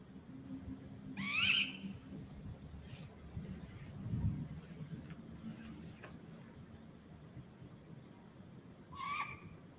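A great gray owl calls in a forest, with a few distant low hoots spread across the stretch and occasional faint higher bird notes over quiet woodland ambience.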